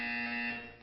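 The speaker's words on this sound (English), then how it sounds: "You will hear a buzzer." A steady electronic buzzer tone in the Portal 2 video game, harsh and continuous with strong layered harmonics, loud and alone for under a second before easing slightly.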